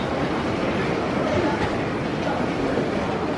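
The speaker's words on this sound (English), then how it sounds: "the train is a fast one into Cambridge" A fast train running into Cambridge gives a steady, close rumble of wheels and carriage noise that holds at an even level throughout without a break.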